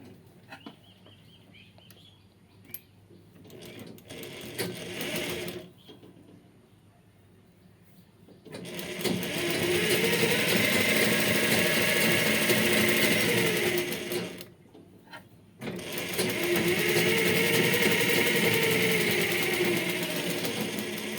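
A sewing machine stitches a zipper onto fabric in two long, steady, loud runs with a brief pause between, after a stretch of quieter handling noises, with no one talking.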